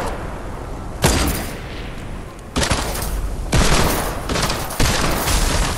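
Fortnite gunfire comes in several loud, sharp bursts of rapid shots with brief gaps between them, close and harsh, with no one talking over it.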